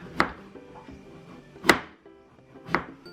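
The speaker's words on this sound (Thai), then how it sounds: "หั่นเป็นแผ่น" A knife cuts carrot into thin slices on a cutting board, producing three sharp, distinct chopping strikes spaced unevenly apart, close and clear with quiet pauses between.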